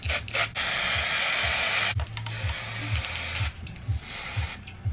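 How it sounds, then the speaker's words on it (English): Close, loud hissing of an aerosol can of teal hair color spray in several long bursts with brief pauses between them, plus a low mechanical rattle underneath. "so I'm gonna spray them teal."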